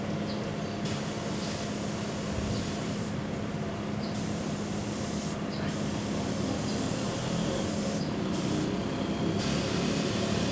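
Paint airbrush hissing onto a paper box while pre-shading a Gunpla model kit, a continuous steady spray with a faint underlying hum and brief drops in the hiss.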